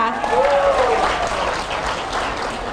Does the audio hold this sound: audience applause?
yes